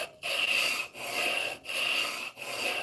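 A Stanley No. 4 hand plane being pushed along wood on test passes after a chip breaker and blade tune-up, giving four rough, rasping strokes in steady rhythm with brief gaps between them, close and alone.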